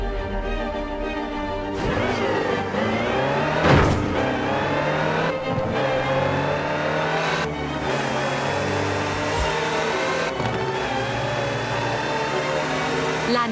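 A Land Rover Type 3 engine in the racing game Forza Horizon 4 drones steadily and loudly, with rising revs and a few sharp shifts or bumps along the way.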